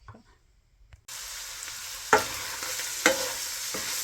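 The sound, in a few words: ground beef cooking in a pan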